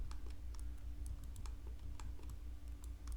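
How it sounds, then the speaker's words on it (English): Computer keyboard keys pressed in a steady scatter of crisp, close clicks over a low background hum, with no voices. "Hit 3 on our keyboard."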